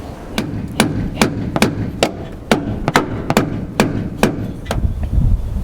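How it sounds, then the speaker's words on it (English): A hammer drives a stiff boat steering cable through its tube in a run of about thirteen sharp, evenly spaced metallic strikes, loud and close, over a low background rumble. "So I'm going to use a hammer and just punch it through."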